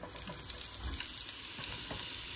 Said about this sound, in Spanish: de aquí la vamos a pasar a sofreírla en el aceite